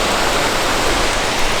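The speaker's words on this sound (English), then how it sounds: "I really wanted to see this waterfall with snow around it." A waterfall roars in the Barrington Tops forest in winter snow, a steady broadband wash of falling water and rain that sounds dense and close, with no voices.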